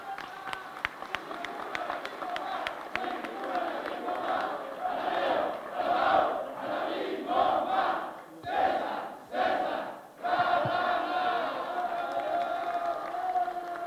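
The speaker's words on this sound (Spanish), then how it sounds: "Fuerte el aplauso, amigas, amigos" A crowd at a PRI party meeting in Ixtlahuaca chants and cheers in loud rhythmic bursts, with some clapping mixed in, swelling and dipping over the stretch.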